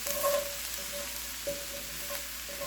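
Chicken fried rice made with leftover rotisserie chicken sizzles steadily in a hot pan while being pushed to one side, with soft scraping and a few light clicks over a continuous frying hiss.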